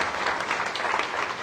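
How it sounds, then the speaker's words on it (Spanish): A congregation at a church service gives brief, dense applause, many hands clapping together in a steady wash. "Y un aplauso en el Señor para Leti"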